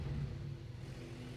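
A turbocharged car engine running without an exhaust gives a steady, low, droning rumble at close range, with no talking.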